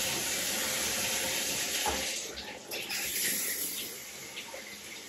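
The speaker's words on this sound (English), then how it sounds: "you still get water leaking out of your tub spout" Water runs steadily from a tub spout while the shower is on, a continuous close hissing splash with a brief dip partway through.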